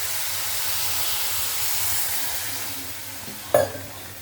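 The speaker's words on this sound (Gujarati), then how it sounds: "તેલ મૂકીને અજમો નાખી લસણ મરચું નાખીને વઘાર કરીને અને શેકી લેવું" Carom seeds, garlic and chili tempering in hot oil hiss in a steady, fairly loud sizzle that fades slightly, ending with a sharp utensil clack.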